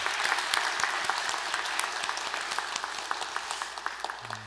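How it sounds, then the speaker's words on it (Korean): A church congregation claps together during Sunday worship, dense steady applause that carries through and fades slightly near the end. "감사의 마음을 담아서 우리 영광의 박수 한번 올려드리겠습니다."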